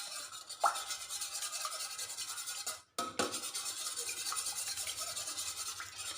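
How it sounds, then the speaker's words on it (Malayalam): A spoon stirs milk in a metal pot while curd is being made, giving soft, repeated scraping and swishing strokes at close range, with one short pause partway through. "ഇങ്ങനെ ഒന്ന് ഇളക്കി കൊടുക്കണേ."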